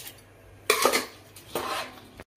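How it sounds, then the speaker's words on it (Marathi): Rice is tipped into a pot of boiling water for egg biryani, making two short, hissing, rattling pours close by with a brief gap between them. "आपल्या पाण्याला उकळी आलेले आपण आता तांदूळ यामध्ये टाकून घेऊया"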